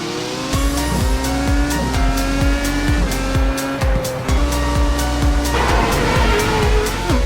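Simulated race cars in the iRacing video game at the World Championship Grand Prix Series at Okayama, engines revving loudly and continuously with repeated gear-shift rises and falls and tire squeal, filling the whole stretch with no talk.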